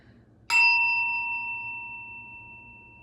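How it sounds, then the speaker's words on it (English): A single bell strike rings out clearly once, then a long, pure metallic tone lingers and slowly fades in a quiet room. "I'm gonna ring the bell one more time"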